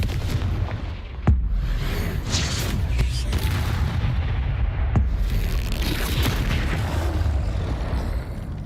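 The Confringo explosive spell from a Harry Potter video game, fired during a fight with a troll. Deep booming blasts and a few sharp cracks sit over a dense, rumbling battle din, with no clear talk.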